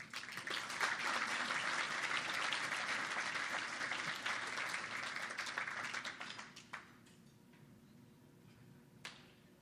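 Audience applause fills a room at a business networking event, steady and dense clapping for several seconds before thinning out and fading, with a few last scattered claps.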